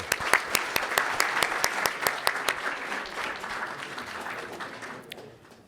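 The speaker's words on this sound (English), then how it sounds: "How about a round of applause for Cissé?" Applause from an audience honoring Mauritania's ambassador to the United States at an award event, with several sharp claps standing out early before the clapping thins and fades over a few seconds.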